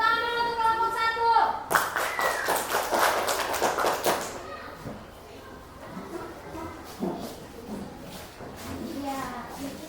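Classroom clapping for the first student group, a burst of hand claps lasting a couple of seconds near the start, followed by mixed voices and room chatter.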